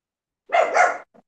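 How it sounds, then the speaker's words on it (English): A puppy gives one clear, close bark, followed by a tiny faint yip, in otherwise silent surroundings. "And the puppy says it's a beauty too."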